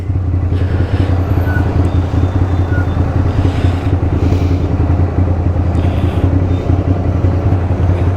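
Loud, steady rumbling of cruiser motorcycle engines nearby at a Kawasaki motorcycle rally, a deep continuous idle and roll with faint background clatter.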